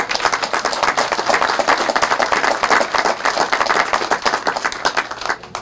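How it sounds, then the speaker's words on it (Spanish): Crowd at a Maratón del Agua water aqueduct event claps for President Santos: dense, continuous applause with crisp individual hand strikes, fairly close and loud, no talking over it. "Un aplauso para el presidente Santos."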